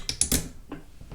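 A threaded bolt is spun out of an Ares M45X-S airsoft gun during disassembly, giving a quick run of three close mechanical clicks followed by fainter ratcheting ticks. No one speaks.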